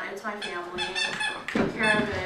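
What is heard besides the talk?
squeaking in the background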